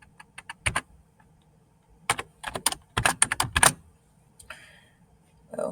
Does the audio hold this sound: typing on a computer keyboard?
yes